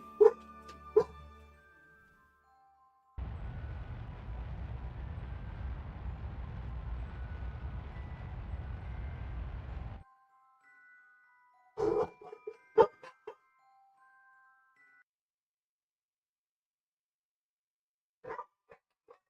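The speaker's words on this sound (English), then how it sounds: "sorry if you can hear the dogs in the background." Dogs bark in the background during a Kerbal Space Program session, a few sharp yips and barks in short bursts, some near and clear, separated by quiet gaps and a stretch of steady noise.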